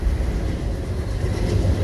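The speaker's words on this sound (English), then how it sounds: "Ooh, that's a train. It scared me." A train passes nearby, a loud, steady low rumble with rolling wheel noise that holds throughout.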